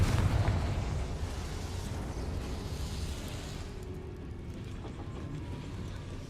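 A Confringo fire spell detonates in Hogwarts Legacy, a heavy explosive boom at the start followed by a long rumbling, crackling roar that slowly settles.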